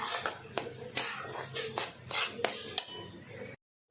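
Gram flour roasting in ghee in a pan over medium heat, stirred with a spoon that scrapes and clinks against the metal in irregular strokes, close and fairly quiet.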